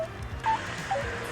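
Payphone call connecting after a 2600 tone is sent: short electronic tones and beeps sit over a steady line hum and low buzz, with no voices.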